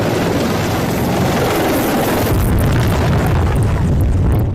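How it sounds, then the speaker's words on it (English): Loud, roaring rotor wash from a helicopter passing low and close, a heavy rumbling blast that surges and stays intense throughout. "a helicopter approached and flew so low it"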